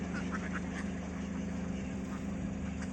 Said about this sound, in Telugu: బాతులు